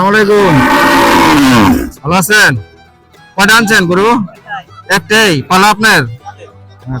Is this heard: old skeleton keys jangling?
no